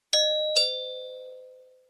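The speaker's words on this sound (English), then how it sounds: "Mummy Pig rings the doorbell." A cartoon doorbell at a house rings twice in quick succession, a clean ding-dong of two bright chime tones, the second ringing on and fading slowly in a quiet room.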